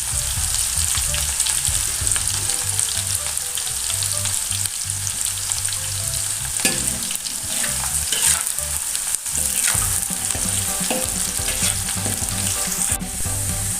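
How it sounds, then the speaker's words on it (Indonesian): Onions fry in a reduced amount of oil for Padang-style stir-fried tempeh, giving a steady, close sizzle broken by occasional stirring scrapes, with no talking. "sekarang kita goreng bawang ya Bunda"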